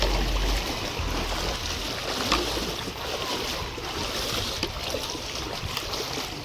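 Fast-flowing floodwater rushes past nearby in a steady, broad roar of churning water, continuous and fairly loud with no voices over it.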